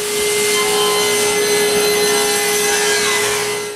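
A power saw rips wooden pieces to width, giving a loud, continuous whine with a steady pitched tone and faint rhythmic thumps underneath, running for a few seconds with no talking.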